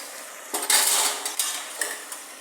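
A spoon scrapes and clatters against a pan while crushed grated coconut, green chilli, onion, turmeric and salt are stirred, bright metallic strokes in quick bursts over a faint sizzle, no one speaking.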